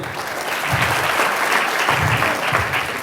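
Sustained, loud audience applause at a film press meet, dense clapping from a crowd filling the room without a break.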